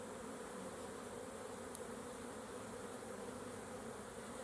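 Honey bees hum and buzz around an open hive during an inspection, a faint, steady, dense drone with no voices.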